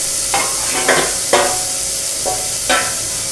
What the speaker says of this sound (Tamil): அதையும் போட்டு கிண்டி விட்டுங்க